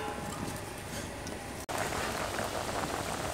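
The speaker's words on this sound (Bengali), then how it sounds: "এবার একটি ঢাকা দিয়ে আমগুলোকে কিছুটা সিদ্ধ করে নেব।" Green mangoes simmer in a covered pot, giving a steady, soft, rain-like hiss and bubbling that runs without a break, except for a momentary dropout midway, with no voice over it.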